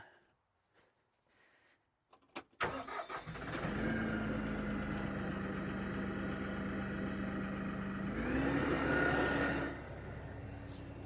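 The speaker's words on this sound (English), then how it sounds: "I'm going to jump up here, crank the tractor." A tractor engine cranks and catches, then settles into a steady, loud idle close by before briefly revving higher and dropping back to idle.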